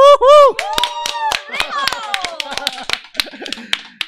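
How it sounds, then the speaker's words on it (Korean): Clapping from a small group at a stock-investing group class mixes with loud, animated voices and a whooping cheer, with sharp claps sounding close by under the talk. "저 높은 곳으로 우리 다 같이 갑시다 박수 치면서 우후"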